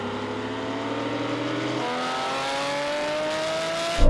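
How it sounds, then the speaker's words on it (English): Porsche 911 GT3 RS cars, including a 997, accelerate hard in a third-gear rolling drag race, their engines rising steadily in pitch as they pull together, loud and close, with a sharp burst at the end. "rolling race, third gear roll, and I'll call it over the half mile"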